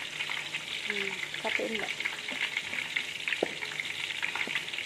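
Flour-coated tofu fries in plenty of hot oil, giving a continuous bright sizzle and spatter close by, with a brief voice speaking partway through.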